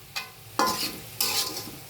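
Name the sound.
food frying and being stirred in a pan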